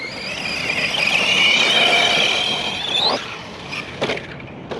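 Arrma Granite 3S V3 RC truck launching, a loud rising high-pitched electric motor whine that builds then cuts off, followed by a couple of sharp clattering knocks as it lands.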